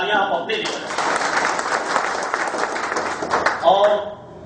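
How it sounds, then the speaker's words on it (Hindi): Loud audience applause from a crowd at a company event for a private limited firm, steady dense clapping filling nearly the whole stretch, with a voice speaking briefly at the start and end. "एक बार जोरदार तालियां आप अपने लिए बजाओ।"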